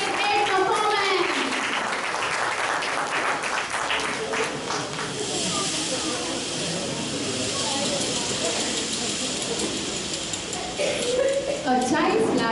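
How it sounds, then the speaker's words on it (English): Applause for a children's cultural performance at a school event, a broad wash of clapping that carries on for the whole stretch with a voice speaking over it in places. "Give them a huge round of applause for their great performance"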